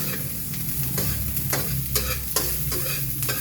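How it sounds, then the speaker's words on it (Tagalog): Chili and ginger sautéing in a hot pan, a steady sizzle broken by regular scraping strokes of stirring roughly every half second, close and clear with no talking. "Gigisahin muna natin, guys."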